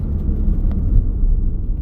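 Low, loud road rumble inside a 2019 Ford Transit Custom 2.0 EcoBlue van under hard braking, a steady deep drone with no scraping or squeal.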